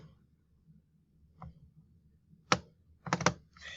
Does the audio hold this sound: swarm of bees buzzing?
no